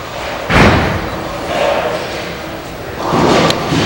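A 5-pin bowling ball crashes into the pins in a televised semi-final match. There is a loud thud and clatter, then a second rolling crash later, set against the ambient noise of the arena.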